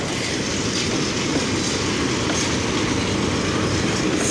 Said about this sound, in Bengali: সৈয়দপুর রেলওয়ে কারখানা থেকে বের হলো